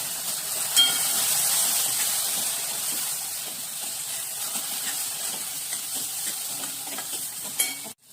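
Steady steamy hiss and soft sizzle from roasted flour in a hot pan after water is sprinkled on, with faint scraping of a spoon; continuous and moderately quiet, ending abruptly.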